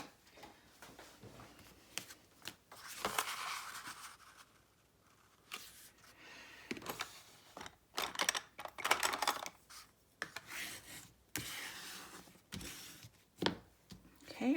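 Whisper White cardstock is cut for a card base in a craft session, with scattered close clicks, slides and paper-handling rustles that come in irregular bursts between quieter gaps.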